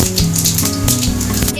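Panch phoron spices and dried red chilli hit hot mustard oil in a kadai, giving dense crackling and popping sizzle throughout, with a voice speaking over it.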